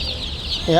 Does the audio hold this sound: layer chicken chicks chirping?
yes